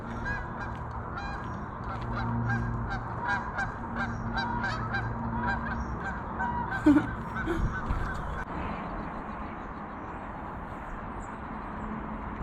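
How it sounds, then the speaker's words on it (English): A flock of geese honks continuously at a reservoir, overlapping calls forming a busy chorus that thins out toward the end, heard from a moderate distance. "it's a whole flock of geese."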